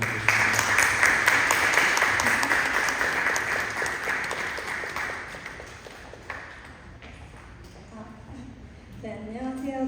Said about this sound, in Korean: 나올 때 박수로 환영하도록 하겠습니다.